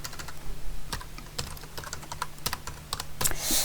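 A web address being typed on a computer keyboard: quick, irregular clicking keystrokes, heard close up with no talking.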